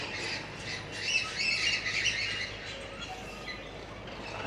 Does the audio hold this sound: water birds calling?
yes